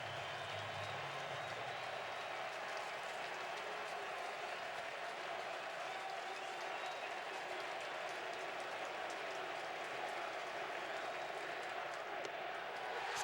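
A baseball stadium crowd at a 2012 playoff game, Cardinals at Nationals, rises to its feet in a dense, sustained roar of cheering and clapping that holds steady throughout.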